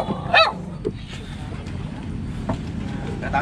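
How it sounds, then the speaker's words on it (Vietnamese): A dog on a small riverboat in a flooded Mekong-area waterway gives one short sharp bark near the start, a few softer yips following amid water and outdoor background noise, with people talking faintly. "Thôi đừng có sủa nè."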